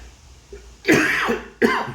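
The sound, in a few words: cough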